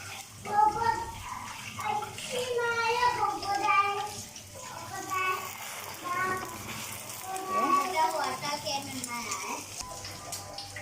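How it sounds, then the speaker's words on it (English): Water runs at a kitchen sink while hands are washed, a steady splashing flow heard close by. Children and an adult talk over it. "go wash your hands"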